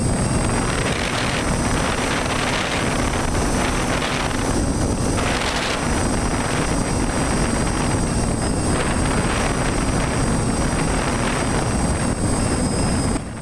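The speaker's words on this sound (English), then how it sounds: "As you can tell by the sound, I'm actually heading into the wind." A long-range TBS FPV plane flies into the wind, and a loud, constant roar of wind buffeting the onboard microphone blends with the steady whine of the motor throughout.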